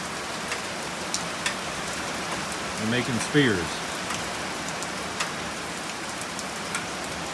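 Steady rain falls outdoors, a dense even patter throughout, while a few people talk briefly over it.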